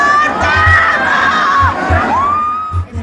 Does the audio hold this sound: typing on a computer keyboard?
no